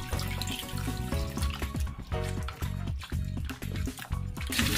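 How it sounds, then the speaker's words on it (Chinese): Fish scales being washed and rubbed by hand in clean water, with continuous splashing and a running tap close by, bursts of sloshing and rubbing that rise and fall, no speech. "先要反复把鱼鳞洗干净，鱼鳞上有很多污垢，用清水洗干净后"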